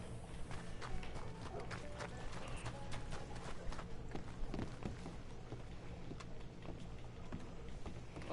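Big hairy horse in Red Dead Redemption 2 clip-clops along in a steady stream of soft hoof falls, fairly quiet and low in the mix of game ambience.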